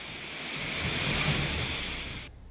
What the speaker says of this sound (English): A massive tidal wave strikes cars on the road.